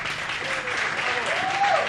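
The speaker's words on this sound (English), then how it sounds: "a big round of applause for our first winner" Audience applause rings out for the first race winner at a live MotoGP eSport Global Series event, a steady dense clapping that holds for about two seconds, with a faint voice underneath.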